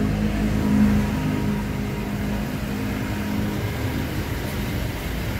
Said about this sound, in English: just a lot of different motorbikes